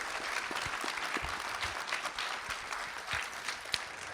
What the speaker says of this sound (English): Let's give a huge round of applause to our state champion relay